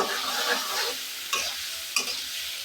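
Shrimp stir-fry with spice paste in a pan over a steady, close sizzle. Two sharp scraping stirs cut in toward the end.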